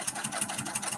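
A sewing machine runs at a steady pace sewing a quarter-inch seam on a mini quilt, a brief, close, evenly pulsing whir.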